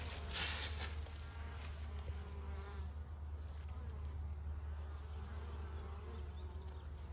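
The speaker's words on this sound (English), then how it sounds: "that some of these bees are carrying in" A dense, steady buzz of many bees in a spring bee yard fills the clip, constant and close, over a low hum, with no talking.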